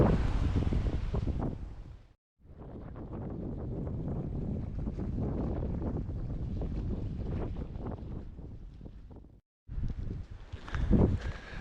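Strong wind buffeting the microphone on a Scottish coast, a loud continuous rushing roar with two brief dropouts and gusty bursts toward the end.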